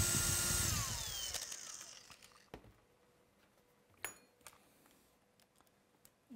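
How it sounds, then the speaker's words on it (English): A power drill bores into the mounting for a ballast weight, a loud whirring burst at the start followed by scattered clicks and knocks of handling. "let's go ahead and attach one side so we can drill in"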